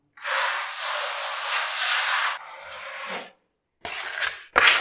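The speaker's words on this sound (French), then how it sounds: "On commence à racler un petit peu plus propre. Donc après, on peut utiliser la lame de 45" A 45 mm blade scrapes filler off a cracked ceiling in close, raspy strokes. A long scrape of about three seconds is followed by a pause, then two shorter, rougher scrapes.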